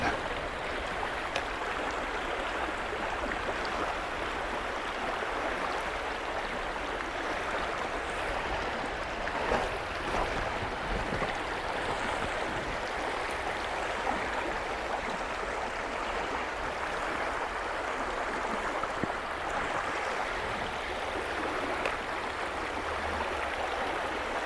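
Steady rushing of river water at a rapid during late-summer brown trout fishing, a constant close roar of churning flow with no voices.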